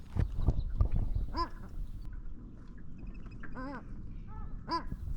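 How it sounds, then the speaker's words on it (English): Several harmonic, honking calls from a group of paradise ducks ring out in short bursts over a steady broadband rush of flowing river water, with some low handling noise early on. "The sound you can hear is a group of paradise ducks which are out on the river"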